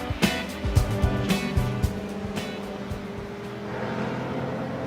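Classic pre-1966 GT race cars run during qualifying at the Silverstone circuit, engine notes rising and fading as several cars pass in quick succession, then a distant steady drone.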